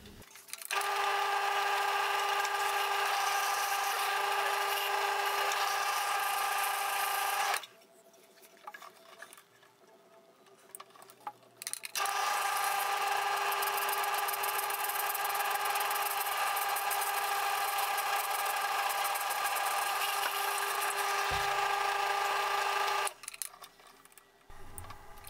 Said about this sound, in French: Alors j'éteins la perceuse uniquement pour pouvoir remettre la tête de la mèche parfaitement dans les trous que j'ai préparés sur la tête du ukulélé